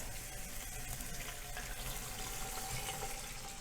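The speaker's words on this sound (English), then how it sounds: "I'm going to add in a 1/2 cup of beef broth" Beef broth being poured into an Instant Pot during pot roast prep, giving a steady continuous splashing liquid flow throughout, close and moderately loud, with no talking.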